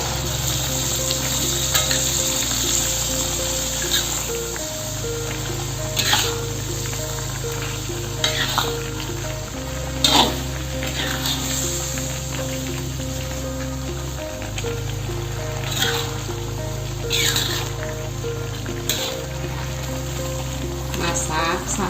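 Beef gepuk with its spices fries in oil poured into the pan, giving a loud, constant sizzle and bubbling with occasional stirring scrapes and a low hum underneath, and a voice speaking now and then over it.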